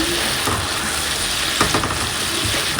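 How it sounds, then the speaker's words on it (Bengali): Dried fish curry masala fries in a pan with a steady, close sizzle, broken by scraping strokes of a spoon stirring through the thick mixture. "তো দিয়ে এখন আবার একটু নেড়ে চেড়ে দেবো মানে শুটকিটা একটু হালকা একটু সিদ্ধ হয় যেন"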